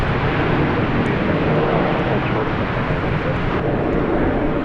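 Airliner approaching DFW Airport, angling in over the near side of the airfield: a steady, broad engine roar holds at an even level throughout, with no talk over it.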